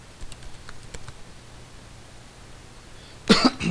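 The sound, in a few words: cough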